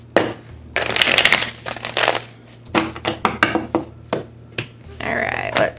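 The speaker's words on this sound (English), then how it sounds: "Let's give it one more shuffle." Tarot cards shuffled in several bursts of riffling and slapping, close up, with short pauses between each shuffle.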